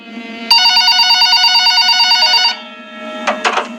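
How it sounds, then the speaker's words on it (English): A telephone on a shop counter rings with a loud, continuous electronic trill lasting about two seconds, then falls silent before a brief pair of sharp clicks or knocks close by. "the phone on the counter rang"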